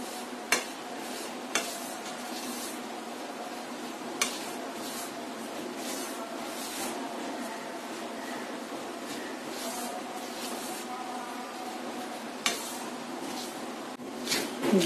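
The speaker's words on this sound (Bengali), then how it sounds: "আবারও নেড়ে চেড়ে যেতে হবে।" Besan being stirred with ghee in a pan over a low flame, a steady soft scraping and stirring with a few sharp clinks of the utensil against the pan, close and continuous.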